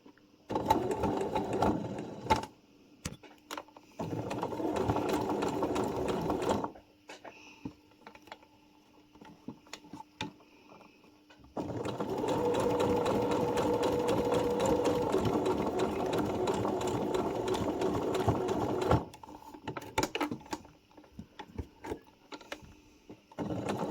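A sewing machine runs a straight-stitch seam on a pompom scrunchie, whirring steadily in two long runs split by a quiet pause, with a few clicks around the stops.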